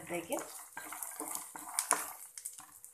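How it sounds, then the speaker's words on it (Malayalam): Peanuts rattle and scrape in a dry pan as they're stirred, with irregular clicks and soft clatters close by, steady background hiss throughout. "ഒരു കപ്പ് കപ്പലണ്ടി എടുത്തിട്ടുള്ളത് നമുക്ക് നന്നായിട്ടൊന്ന് വറുത്തെടുക്കാം"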